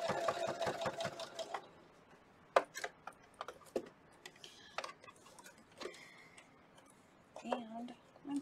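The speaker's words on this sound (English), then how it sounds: "I'm just going to top stitch here." A domestic sewing machine runs in a short burst of rapid stitching while topstitching a towel with a Seminole pieced band. It is followed by scattered clicks and handling noises, and a voice speaks nearby.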